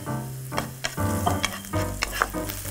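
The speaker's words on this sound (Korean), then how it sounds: "그러면은 파를 넣고 볶으시면 되는데" Scallions stir-frying in a preheated pan as a garnish for a nurungji (scorched rice) dish, giving a close, steady sizzle with scraping stirs and clatter through the clip.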